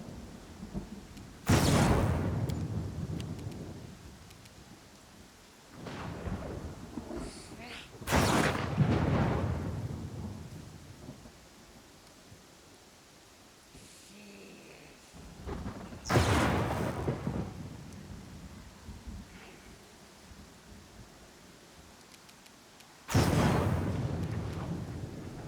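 Thunder in a Pathfinder Kingmaker storm, four loud booming cracks spaced several seconds apart, each fading into a long rumble over a soft rain-like hiss.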